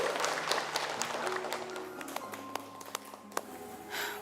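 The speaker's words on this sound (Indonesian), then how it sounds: "Tepuk tangannya mana?" Parents in the audience at an elementary school's annual show applauding, scattered crisp claps over a low musical drone and faint voices, softening toward the end.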